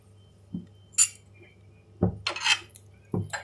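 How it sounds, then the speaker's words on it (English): Mutton curry stirred in a clay pot, heard as a few distinct scraping and clinking strokes of a utensil against the pot, spaced apart over a quiet background. "Stir it again nicely."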